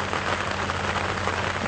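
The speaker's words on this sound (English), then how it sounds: "you might even pick up the droplets falling on the tarpaulin out here" Rain droplets pattering on a tarpaulin outdoors at a game reserve, a dense, even hiss of drops with a low steady hum beneath.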